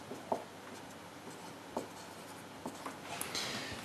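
A hand writes a trigonometry equation, with a pen or chalk scratching and tapping in short irregular strokes, close and fairly quiet, with no talking during the writing.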